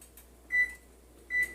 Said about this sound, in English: Now I'm going to set my timer